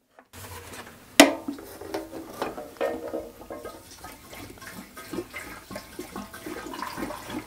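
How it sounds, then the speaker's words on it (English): Fresh gasoline is poured into the tank of a Kawasaki ZZR 600, a 1990s sports motorcycle, giving a close, gurgling liquid flow after a sharp initial clunk, with splashy sloshing that continues unevenly to the end. "let's just pour some fresh gas in it and see what happens"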